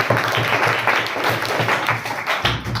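Students clapping for themselves in a Hindi-medium science class, a busy patter of many hands close by, steady for a few seconds with a brief pause near the end.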